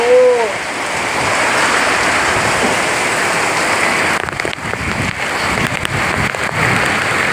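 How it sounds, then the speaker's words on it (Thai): Heavy rain falls in a steady, loud hiss and patter on surfaces close by, continuous throughout, with a brief voice near the start. "ฝนตกพี่น้องเลย"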